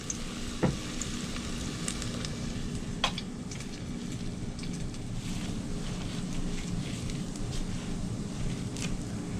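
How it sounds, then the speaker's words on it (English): Hush puppy batter frying in hot oil, a steady dense sizzle and bubbling close by with a few sharp pops, continuous throughout with no talking. "Let's throw that into that hot oil."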